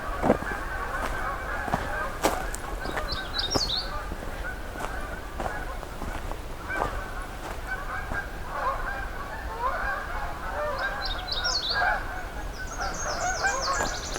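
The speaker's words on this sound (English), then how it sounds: "And hearing some Canada geese coming in." Canada geese honking in scattered bursts, moderately distant, over a busy background of other birds, including warblers, and faint ambient noise.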